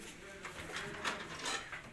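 A pigeon gives a few soft, low coos close by, faint against a quiet background with light shuffling.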